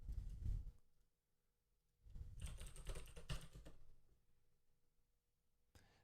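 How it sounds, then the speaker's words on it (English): Close, quiet typing on a computer keyboard comes in two bursts of rapid key clicks separated by a pause, with a final single keystroke. "So you can see what I was just typing there"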